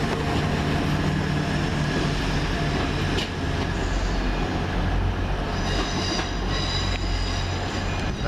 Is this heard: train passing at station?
yes